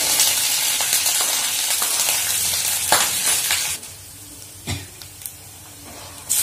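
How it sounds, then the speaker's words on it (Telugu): Ginger, green chili, curry leaves and dried red chili sizzle in hot oil for semiya upma, a loud steady frying hiss that drops to a softer crackle partway through, with occasional stirring clinks. "కొంచెం ఇది కాల్తూ ఉంది కదా, కాల్తూ ఉన్నప్పుడు నేను అల్లం, పచ్చిమిర్చి, కరివేపాకు,"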